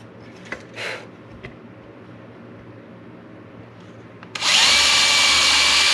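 An electric drill bores a hole through a guitar headstock, whining up loudly near the end after a few faint taps and handling knocks over quiet workshop background.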